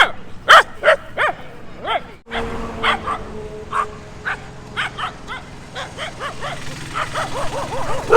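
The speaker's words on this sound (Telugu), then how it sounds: "కుక్కలు ఒక్కసారి వచ్చాయి" Several dogs bark and yip at a roadside in Telangana, sharp repeated barks in irregular bursts, fairly close, with a steady traffic hum beneath.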